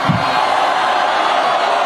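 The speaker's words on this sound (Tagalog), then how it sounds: "naririnig niyo yung hiyawan na yon?" A large crowd roars and shouts at an Iglesia ni Cristo gathering, a dense, continuous wall of voices that stays loud and unbroken throughout.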